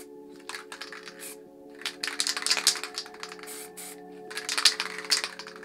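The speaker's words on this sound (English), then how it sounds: "Press it down hard, gives a good burst of paint out." An MTN Hardcore spray paint can is pressed in short hard bursts, each giving a close, hissing spray separated by brief pauses, with a faint steady hum beneath.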